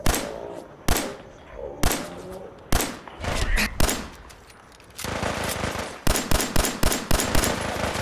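Robot enemy firing a gun in a post-apocalyptic video game, a Mr. Gutsy bot: loud, close bursts of sharp gunfire cracking out at irregular intervals, with clustered rapid shots toward the end.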